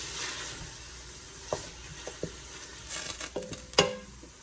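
Stirring sautéed vegetables for pulled pork chili, with monk fruit brown sugar being worked in, in a hot pan: a soft steady sizzle with a few scraping utensil knocks, the loudest near the end, no talk.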